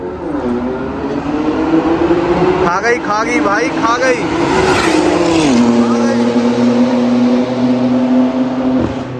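Turbocharged cars, including a 1600 BHP Nissan GT-R and a rare imported Golf with a sequential-turbo 3-litre six, roar hard and steadily in a drag race, one engine's pitch climbing and dropping as it shifts, with someone shouting over the noise.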